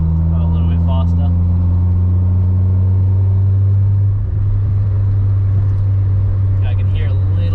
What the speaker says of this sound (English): I can hear a little bit of wind noise.